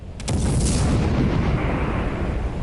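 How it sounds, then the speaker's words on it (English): A sudden deep boom of a bomb explosion in the video game Project: IGI bursts in and rolls on as a loud, rumbling roar that slowly fades. "Must be just on the edge of the explosion."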